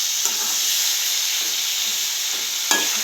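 A frying mixture with red chili powder being stirred in a pan, steady loud sizzle and hiss with a few soft scraping strokes of the spoon, no talk.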